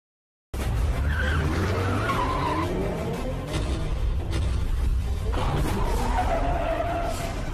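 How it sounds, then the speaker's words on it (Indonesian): Car drifting around a corner, tires skidding and squealing loudly with rising and falling screeches over a roaring engine after a brief silent start. "Drift sempurna. Tikungan yang sempurna."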